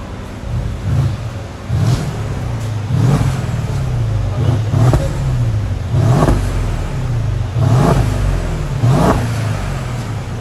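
A 2014 Mercedes CLS 550 V8 engine with stock exhaust revs up repeatedly in a regular rhythm, each rev rising and falling, loud and close with a fairly muted exhaust tone.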